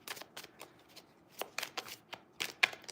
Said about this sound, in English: We're going to do 3 more shuffles.